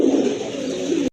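A Siraji pigeon gives a single drawn-out coo, close and loud, that ends abruptly.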